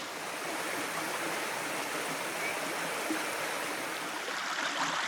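A shallow stream on the New South Wales south coast babbles and rushes steadily up close, a continuous bright watery wash with no voices over it.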